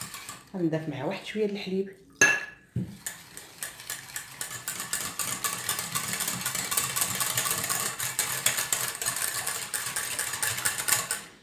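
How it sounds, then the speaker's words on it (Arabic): An electric whisk mixes cream for a cream millefeuille, a steady loud buzzing whir with rattling against the bowl that runs continuously after a clatter, following brief speech at the start. "هنا غادي ناخذ الفوي ديالي وغادي نخلط هادشي"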